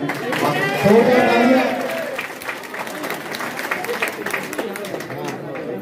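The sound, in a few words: audience applause at a political rally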